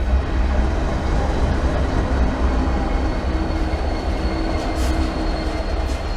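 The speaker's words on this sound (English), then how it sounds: "Comes a train." A train rumbles past nearby, a loud, steady roar of rolling wheels and rail noise that fills the whole stretch, with brief high screeches near the end.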